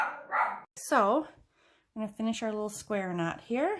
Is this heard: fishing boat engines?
no